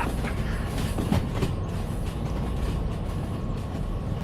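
A train rolls past continuously in the DV Sim video game, a steady rumble with clattering wheel noise that holds at close range throughout with no speech.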